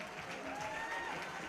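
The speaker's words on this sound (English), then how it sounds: "This will get a decent cheer from the hall." Applause and cheering from a crowd filling a hall at a Para Nordic skiing victory ceremony, a steady wash of clapping throughout, moderately distant, with a faint voice over it.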